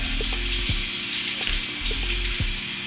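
Warm water streams steadily from a bathroom tap while a face mask is rinsed off, a continuous close splashing hiss with a few soft knocks and drips underneath.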